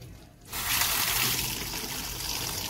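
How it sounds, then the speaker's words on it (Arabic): Cold tap water pours onto boiled chickpeas in a pot, starting after a brief quiet moment and continuing as a steady close splashing gush. "اهو فتحت عليه الميه الساقعه"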